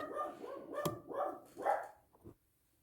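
A dog barks several times in a loose run of sharp, fairly close barks, trailing off with a final short bark before silence.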